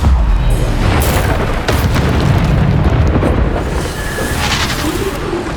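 Bombarda spell blasts in Hogwarts Legacy, a dense run of loud booming explosions layered with crackling debris, sustained and close for several seconds with no pause.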